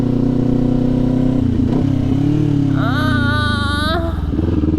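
A Kawasaki Ninja 400 motorcycle engine idles loudly, then a rising squealing whine from braking appears for about a second before cutting off, with the engine rumbling on underneath.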